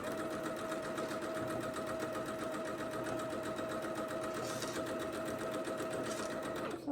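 A domestic sewing machine chain-pieces small quilt squares, running in a fast, continuous mechanical whir with a steady hum and rattle, close and unbroken until it stops abruptly at the very end.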